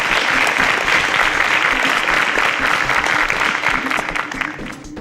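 A quiz-show studio audience applauds after contestants answer correctly, giving a steady, loud wash of clapping that holds for several seconds and eases slightly at the end.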